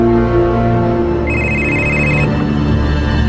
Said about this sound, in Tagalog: mibagte nga akong cellphone